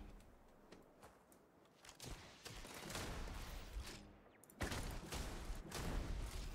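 Rapid bursts of gunfire from a weapon in a looter-shooter video game on a very hard new game plus run, sharp repeated shots under constant background game noise.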